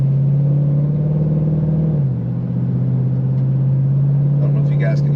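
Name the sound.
tuned street car accelerating with crisp gear shifts at part throttle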